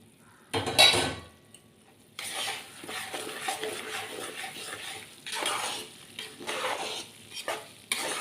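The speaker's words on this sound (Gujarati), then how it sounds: "તો હવે આપણે ચાસણીને રવામાં નાખી દઈશું" Sugar syrup hits semolina (rava) in a hot pan with a brief loud sizzle, then a spoon stirs and scrapes steadily in uneven bursts with light metallic clinks.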